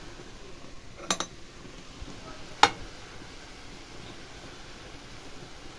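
Cabbage with tomato paste is stirred in a pan, with a faint sizzle and two brief metallic clinks of a utensil against the pan, close.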